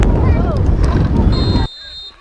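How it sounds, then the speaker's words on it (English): Wind gusts buffet the microphone in a loud, rumbling rush at an outdoor youth football game at a sports complex, with a voice underneath, then cuts off sharply into quieter background. "Little bits of gusts of wind."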